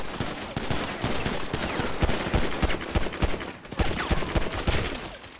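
Dense rapid gunfire in a video game, continuous bursts of shots close and loud with no pause, sounding like a sustained firefight.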